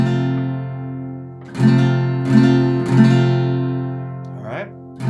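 An acoustic guitar chord strummed across all strings, rung out and re-strummed several times in an unhurried rhythm, close and fairly loud.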